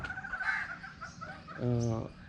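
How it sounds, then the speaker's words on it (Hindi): Backyard chickens make a few soft clucks, with one clearer, louder cluck near the end, close by over a low background hum. "ये मेरी मुर्गियाँ वो मुझे देख के बड़ी रेडी हुई खड़ी हैं"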